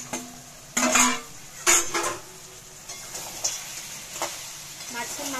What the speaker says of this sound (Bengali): এবারে আমি মাছের মাথাগুলো দিয়ে দিচ্ছি